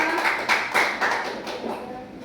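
A class group claps for a student team during a school computational thinking lesson, a short burst of rhythmic, fairly close clapping with distinct beats that tapers off quickly.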